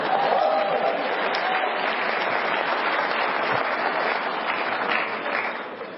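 Sustained, dense audience clapping at a university debate on whether God is real, steady from a large hall crowd and tapering off slightly at the end.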